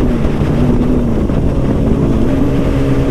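Three sport motorcycles, a ZX-10R, an RC 390 and an RR 310, race together, their engines droning loud and steady with a continuous whining tone and heavy wind rush throughout.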